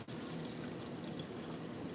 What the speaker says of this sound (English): Even that water noise is working my goddamn nerve.